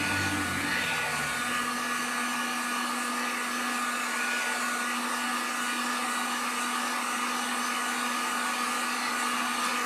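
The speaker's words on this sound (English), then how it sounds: "So I will heat gun this real quick just to make sure." A heat gun blows steadily on acrylic paint drying on a flamingo sign, a continuous close whooshing roar with a faint tonal hum and no talking.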